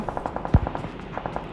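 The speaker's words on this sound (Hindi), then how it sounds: "यहाँ से गोलियाँ ऊपर से आ रही है आवाज़" A quick, evenly paced burst of automatic gunfire in the mobile battle royale game BGMI sounds at moderate distance, broken by one heavier, booming shot partway through.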